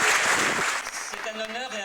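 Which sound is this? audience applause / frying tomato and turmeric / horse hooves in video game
audience applause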